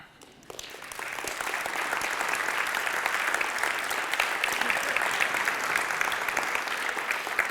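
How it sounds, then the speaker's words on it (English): Sustained applause from a conference audience at a developer talk, rising quickly after a brief quiet start and holding as a dense, steady wash of clapping for several seconds. "that's actually honest applause"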